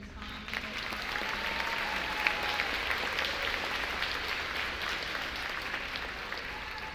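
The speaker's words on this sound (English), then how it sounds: "Please put your hands together for these fine people." A high school academic awards ceremony audience applauds theater award recipients with sustained, even clapping from a large crowd in a hall, with faint voices in the background.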